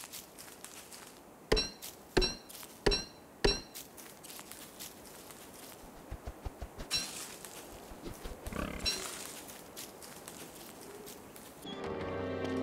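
Pigs in a village in the video game Don't Starve Together, with sharp chopping or footstep hits in a row early on and soft grunting and shuffling under a quiet ambient bed.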